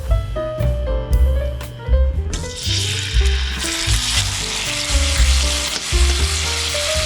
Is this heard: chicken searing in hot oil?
yes